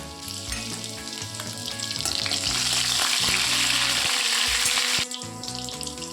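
Chopped ginger sizzles and fries steadily in hot oil as a tempering for lau dal, a loud close crackle that swells midway and drops slightly near the end, with no talk.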